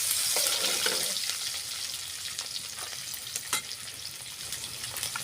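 Steady loud sizzling of onions frying in hot oil with cardamom and bay leaf, a dense continuous hiss with scattered crackles and stirring scrapes, close by and without talk.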